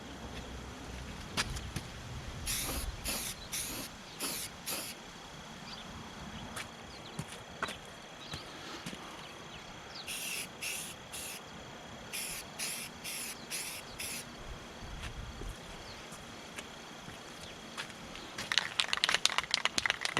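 A spray can lays primer on a car fender in short, sharp hissing bursts, two clusters of quick sprays with quiet gaps between, close and fairly loud, and no talking.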